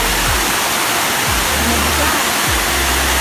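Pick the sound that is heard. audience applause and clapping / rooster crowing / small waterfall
small waterfall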